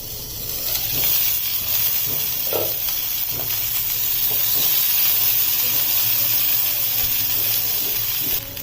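Whole pointed gourd (parwal) frying in a pan, giving a steady, close, loud sizzle and hiss with faint stirring scrapes throughout.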